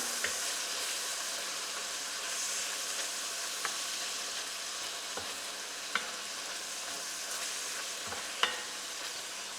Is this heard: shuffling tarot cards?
no